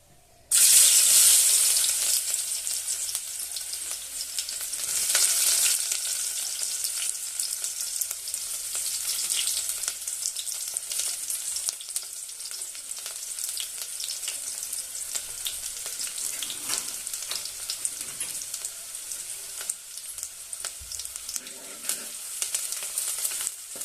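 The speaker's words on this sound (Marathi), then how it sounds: "तेल चांगलं गरम झालं की त्यामध्ये कांदा टाकायचा" Onion hits well-heated oil with a loud burst of sizzling that settles into a steady crackling fry, close and continuous for the whole stretch, with no voices.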